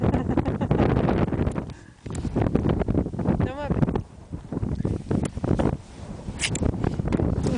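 Strong gusts of wind buffet the microphone in loud, roaring bursts, with voices talking underneath.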